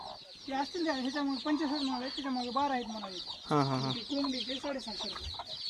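Several village desi chickens cluck and squawk continuously and fairly close, their busy calls overlapping throughout.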